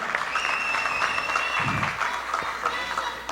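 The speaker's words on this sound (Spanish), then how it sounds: "le invito un fuerte aplauso" An audience at an Ecuadorian political gathering breaks into steady applause, a continuous crackle of many hands with a brief low thump partway through, faint voices mixed under it.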